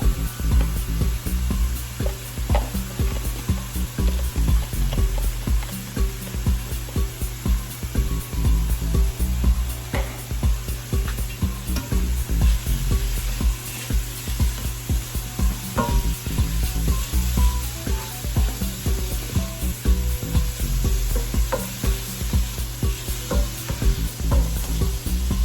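Finely chopped fresh garden herbs sizzling in a frying pan for a tofu scramble, a steady loud crackling fry with stirring scrapes throughout and no talking.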